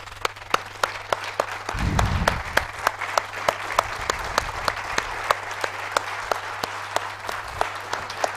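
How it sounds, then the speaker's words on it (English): Anniversary celebration crowd in Lilongwe applauding, sustained clapping from a large audience with a few louder individual claps standing out and a brief voice early on. "give the CCC a big round of applause"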